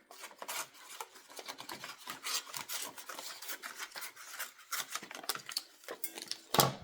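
Scissors or a blade cut away the top of a craft card, rasping snips and scraping rubs in an irregular run, close and quiet, ending with a sharper crisp cut.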